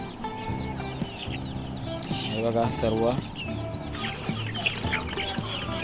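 Several chickens cluck nearby in short, scattered bursts, with a person talking over the flock.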